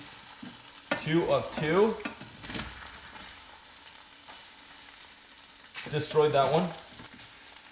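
Food fries in a pan on an indoor stove, a steady close sizzle heard throughout, while someone speaks in two short bursts over it.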